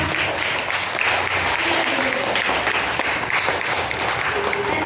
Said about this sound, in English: Everybody clap hands for Adya Hireman.